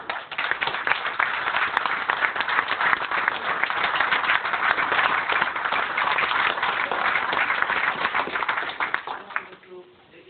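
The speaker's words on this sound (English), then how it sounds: "Please give me a round of applause." Steady applause from a crowd, dense overlapping claps lasting about ten seconds before tapering off, with faint voices mixed in.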